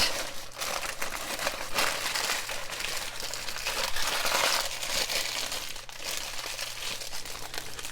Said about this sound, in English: When you put the wax paper over, you can shape it.